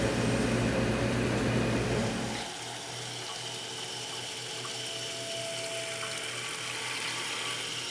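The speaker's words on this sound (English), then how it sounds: "water goes down out of the funnel" Water gushes and trickles steadily through a PC liquid cooling loop while the pump runs, loud and close at first, then settling into a quieter continuous flow with a faint motor hum.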